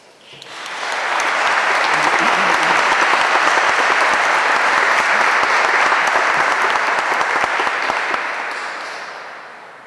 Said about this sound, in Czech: Proč tleskáte?